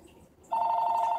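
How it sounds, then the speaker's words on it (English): Telephone starts ringing halfway through, a steady electronic bell tone rising sharply out of a quiet room and holding to the end. "Phone."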